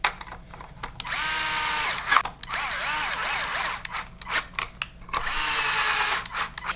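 A power drill drives M3x10 screws into a Traxxas RC car chassis to fasten a plate, with three close, loud bursts of whirring that rise and fall in pitch, separated by short pauses and small clicks.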